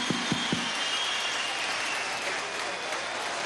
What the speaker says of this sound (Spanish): Vamos a recibir al presidente con un aplauso